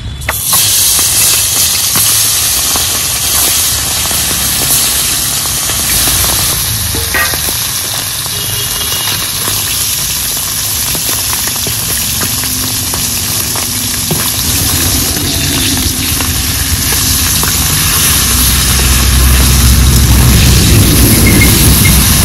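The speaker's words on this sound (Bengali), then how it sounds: "মাছ ভাজার জন্য কড়াইয়ে তেল দিয়ে দিচ্ছি।" Tilapia pieces fry in hot oil in a wok, giving a steady, loud, close sizzle and hiss that runs without pause and swells slightly toward the end.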